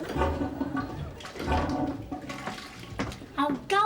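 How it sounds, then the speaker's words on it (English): A household toilet flushes with a rushing, gurgling swirl of water. Bursts of talk and movement come in over it near the end. "Oh, go on, you stupid toilet."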